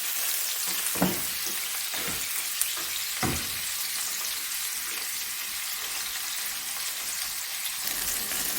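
Meat for a Saudi-style kabsa sizzles steadily in a pan, a bright continuous hiss with a few soft stirring knocks early on and no talking.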